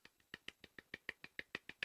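Sage clapping, a dozen sharp, evenly spaced claps in a steady rhythm, close and fairly quiet, with nothing else behind them.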